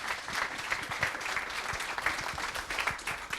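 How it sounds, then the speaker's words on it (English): A town hall audience applauding the event's sponsors, a moderate round of clapping with distinct individual claps audible in the mix, fairly even and slightly distant. "Let's give these guys another round of applause."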